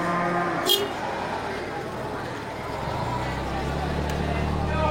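A male Aceh calf moos at a livestock market, a long low drawn-out call under people talking, with vehicle engines and crowd noise in the background.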